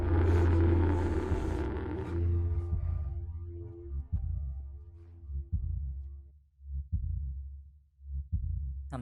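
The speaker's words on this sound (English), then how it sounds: "I'm hearing like heartbeats." Heartbeats in the horror video game It Moves, slow deep thumps in an uneven series after a burst of louder ambient noise, each beat booming and fading alone.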